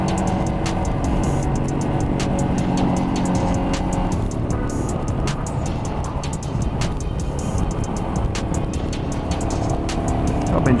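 A Royal Enfield Himalayan motorcycle ridden on a track, its engine droning steadily and loud with constant wind rush throughout.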